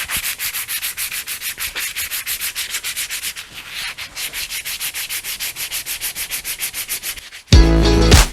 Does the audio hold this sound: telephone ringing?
no